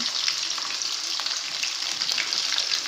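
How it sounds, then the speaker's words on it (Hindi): Sliced onions sizzling in hot oil in a pan that was just used to cook okra, a steady, close frying hiss with faint stirring crackles throughout. "उसमें डाला है ऑयल और उसमें ये प्याज शामिल कर देंगे।"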